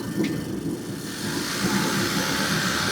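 A car engine is held at a raised speed of about 2,500 RPM, giving a steady, close hum and hiss that grows slightly fuller partway through, with no talking.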